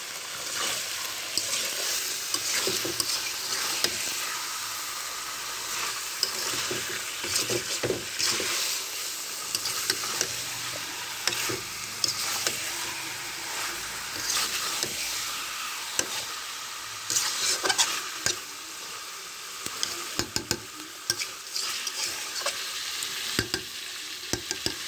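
Broiler chicken meat and potatoes fry in a pan while being stirred, with a constant loud sizzle and frequent scraping, clattering strokes throughout, and no talking.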